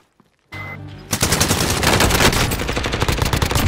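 Rapid automatic gunfire in the video game Warzone bursts in after a brief lull and continues as a loud, dense, sustained volley at close range.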